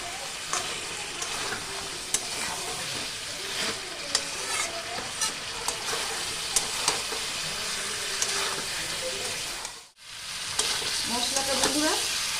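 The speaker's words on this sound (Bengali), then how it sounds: "ইঁচড় আর আলু দিয়ে দিলাম তারপর আমি কষাতে থাকবো" Jackfruit and potato stir-fried in spices in a pan, with steady sizzling and repeated scraping stir strokes throughout, loud and close, broken by a brief silent gap near the end.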